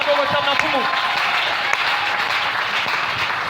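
Steady applause and cheering from a church congregation fills the space loudly and continuously, with a voice heard over the clapping.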